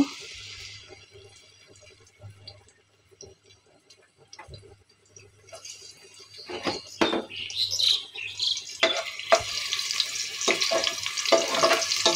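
One chopped medium onion dropping into hot oil for a chicken curry, quiet at first, then a rising, crackling sizzle with stirring scrapes that grows loud and steady near the end, heard up close with no talk.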